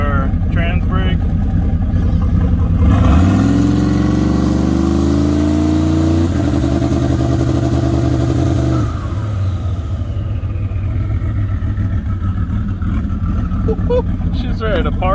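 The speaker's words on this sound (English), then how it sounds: "we're gonna flip on our two-step and engage our trans brake" A truck with a built 4L80E transmission revs against its two-step with the trans brake engaged, the engine climbing loudly and holding a steady, aggressive drone before easing off, with people talking over it.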